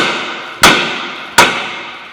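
Two sharp hammer whacks strike a rusted rear brake rotor on a car, each a loud metallic crack with a ringing tail, spaced under a second apart over a steady background hiss.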